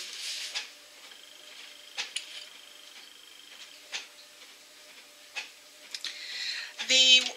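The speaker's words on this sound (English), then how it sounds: "Really sorry if you can hear that noise in the background. That is the printer." A faint mechanical hum runs in the background, broken by soft clicks and taps, with a brief whirring, grinding burst of printer mechanism near the end.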